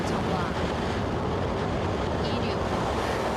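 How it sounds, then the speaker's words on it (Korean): Korea's Nuri rocket lifting off, a dense, steady broadband roar with deep rumble that holds at an even level throughout, like a continuous blast of noise. "누리호가 발사됐습니다"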